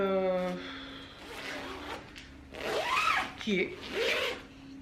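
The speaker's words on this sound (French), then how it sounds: "Vous avez une fermeture éclair" A zipper on a bag rasps open in short pulls, with a person talking over and between the strokes.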